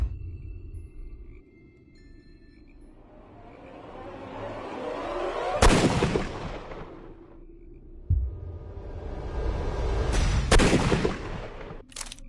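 A gunshot in the Sherlock Holmes Crime & Punishment game, with two sharp loud cracks several seconds apart, each trailing off over a low rumbling background with no talking.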